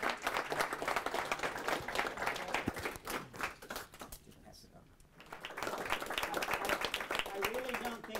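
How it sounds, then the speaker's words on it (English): A modest crowd at a general meeting claps in a scattered round of applause, fairly quiet and roomy, fading briefly midway before picking up again, with people talking over it. "let's give Delphine a round of applause."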